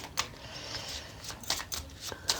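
Oracle cards being shuffled and drawn by hand, soft close riffles and sharp papery snaps in quick uneven bursts, faint and without talk.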